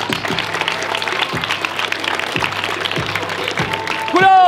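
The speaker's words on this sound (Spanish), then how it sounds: "fuerte el aplauso" Audience applause at a semifinal match of a 2024 tournament, a dense steady clatter of many hands running throughout, while a voice speaks over it in the first part.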